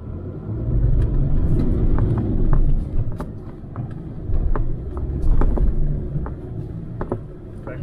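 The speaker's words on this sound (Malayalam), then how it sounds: "എൻഗേജ് ചെയ്ത് കഴിഞ്ഞപ്പോഴത്തേക്കും വണ്ടി കൂളായിട്ട് ഇതേ കയറി പോകുന്നുണ്ട് കേട്ടോ." A Force Gurkha 4x4 with its front locker engaged grinds up an offroad climb, its engine a low steady rumble with crunching and knocking from the terrain, loud and close throughout.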